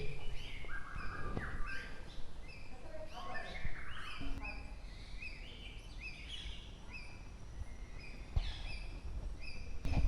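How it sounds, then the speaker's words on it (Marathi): Many birds chirp and twitter in overlapping evening calls in Konkan, a busy outdoor chorus with some deeper fowl-like calls mixed in, steady throughout. "सकाळ आणि संध्याकाळ पक्ष्यांचा किलबिलाट असतो इकडे."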